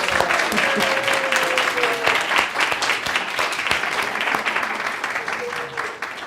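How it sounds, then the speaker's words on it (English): A congregation gives a round of applause during a gathering, dense clapping with a few cheers, loud and steady before tapering slightly at the end. "let's give them all a round of applause."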